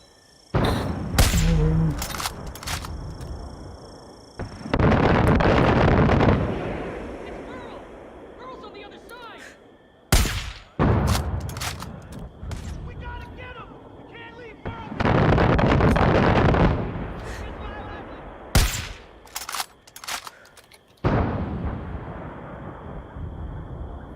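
Mortar fire and explosions ring out in the game Far Cry 5: sharp loud blasts come in bursts, each followed by a long rumbling roar that fades, with several cracks close together and a few game voices between them.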